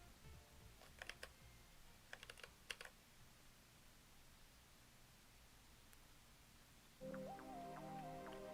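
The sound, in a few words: computer keyboard typing, pressing keys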